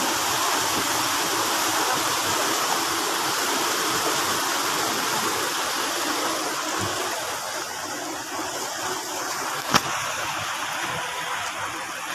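A mountain river rushes over rocks in a steady, full roar of flowing water, close and continuous, with a brief sharp knock near the end.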